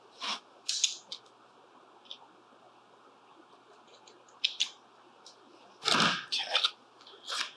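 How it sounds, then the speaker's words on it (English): Scissors trimming a vinyl body wrap for a Traxxas XO-1 RC car body, a few crisp snips in short bursts, near and fairly quiet against a faint background hiss. "Grab my scissors."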